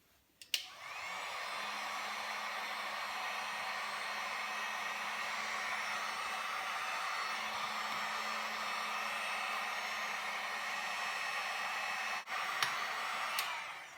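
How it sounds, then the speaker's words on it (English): A cheap heat gun, bought for about 99 Swedish crowns, blows hot air in a steady, loud, close whoosh that holds for most of the stretch after a click starts it, with no voices. "And now I've got the heat gun."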